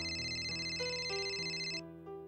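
A telephone rings indoors in a drama scene, a synthetic melodic ringtone with stepped tones repeating in a short phrase, fairly quiet and heard alone before it cuts off.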